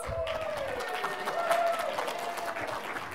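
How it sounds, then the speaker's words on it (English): Party audience giving a round of applause and cheers for couples at a Not So Newlywed Game, steady mid-distance clapping with a few whoops and voices mixed in. "So give a round of applause to our couples."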